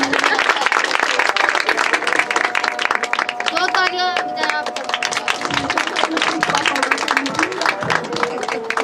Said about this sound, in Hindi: पापा के लिए भी जोरदार तालियां।